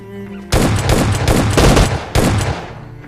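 Loud bursts of automatic gunfire in the battle royale video game PUBG, several rapid volleys with short gaps between them, close and dominant with no talking.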